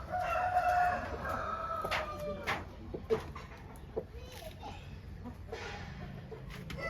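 Quality rooster for sale at a Nellore poultry seller, crowing in a drawn-out call near the start, with clucking and other fowl sounds around it in a busy yard.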